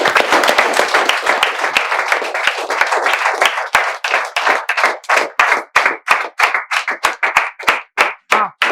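Students from the two Telugu states clap together in a dense burst of welcome applause that thins into sparse, separate claps, loud and near, with a brief spoken word.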